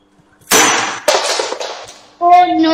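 A rubber ball frozen in liquid nitrogen shatters at a science centre show, making sharp glassy cracking impacts followed by a ringing clang, close and loud.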